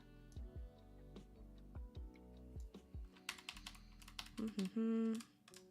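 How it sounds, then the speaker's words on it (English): Computer keyboard arrow keys pressed in a quick run of close, crisp clicks, with a few sharper taps near the end, while designing a digital planner in Adobe Express. "Just gonna use the arrow keys to nudge."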